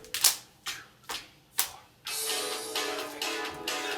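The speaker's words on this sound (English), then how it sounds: "Professor Says, slap your knees 4 times." At a children's storytime game, kids slap their knees four times: four short, dull slaps spaced about half a second apart, then a sustained burst of mixed group noise.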